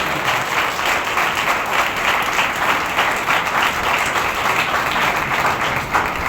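A church congregation claps steadily during a Sunday service, a dense, continuous wash of many hands at even loudness throughout, with no pauses.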